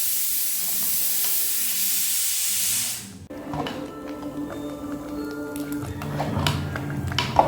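A thick ration-rice batter for vadam cooking in a pan, at first a steady steamy hiss, then a spoon stirring and scraping with soft bubbling and clanks, close up.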